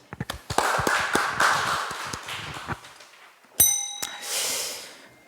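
A church congregation at a Friday prayer service claps in a brief, uneven burst of applause over the first few seconds, which fades out. Bright chime-like tones ring afterward.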